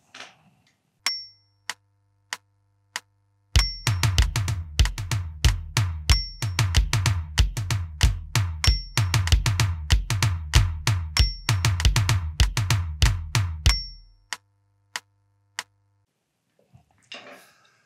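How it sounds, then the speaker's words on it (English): Close drum-kit groove on a tom for the verse of a song: rapid, steady tom strokes with regular bright ticks on top, preceded and followed by sparse single hits. "We stay on the tom to play this groove."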